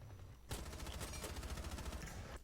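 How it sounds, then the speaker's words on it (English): Rapid automatic gunfire from a gun in Rainbow Six Siege, a fast steady burst of close, loud shots that starts abruptly after a brief quieter moment and keeps rattling to the end. "I hate how this gun has like little ammo."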